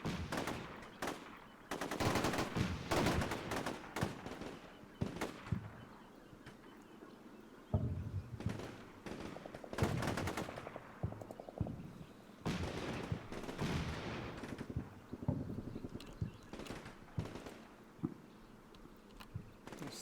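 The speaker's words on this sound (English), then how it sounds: "the machine gun down the bottom is kind of covering it" Machine gun fire in a war video game crackles in repeated bursts, loud and close, with single shots scattered across quiet gaps.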